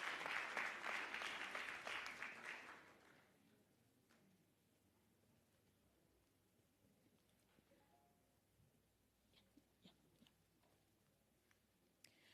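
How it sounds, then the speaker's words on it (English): Audience applause fills a summit hall, loud and dense for about three seconds before fading into quiet room noise with a few scattered light ticks. "Can we give her a huge round of applause?"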